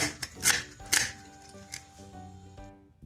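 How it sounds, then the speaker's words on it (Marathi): Knife chopping green chillies on a cutting board, a few sharp irregular chops close by, with faint kitchen clatter and no talking. "दोन हिरवी मिरची कट करून घालूया"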